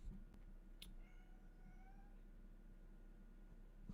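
A cat meows indoors, several rising and falling meows in a row, fairly faint over a low steady hum with a couple of brief clicks.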